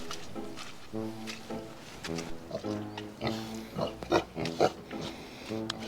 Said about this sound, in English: I could introduce you to our pigs